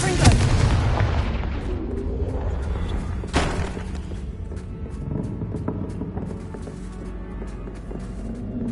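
In Hogwarts Legacy, a Confringo fire spell bursts into a heavy booming explosion, with a second sharp blast a few seconds later and a long rumbling decay as debris settles.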